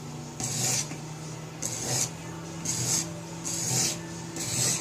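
A blade is sharpened on a coarse 180 grit stone in a crosshatch pattern, giving five rhythmic rasping strokes about a second apart. Each stroke is a close, steady scrape.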